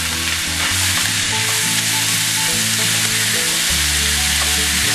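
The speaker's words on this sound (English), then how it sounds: "I'm gonna add the green peppers and the onions and all the stuff that we chopped up here and sizzle that around." Green peppers and onions sizzle steadily in a hot pan, a loud continuous crackling hiss close up with no talking throughout.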